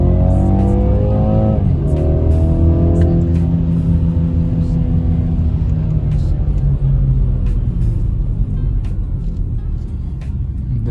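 A car rolls down a gentle slope, its engine rumbling loud and close with a steady low drone and shifting tone as it coasts, a few clicks and knocks over the top.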